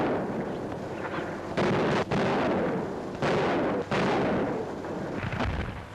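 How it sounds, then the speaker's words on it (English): World War II artillery guns fire in battle near Saarbrücken: a dense, continuous roar of booming blasts and rumbling detonations, several heavy reports standing out over a loud, noisy din. "the battle grows grim, and the guns take over."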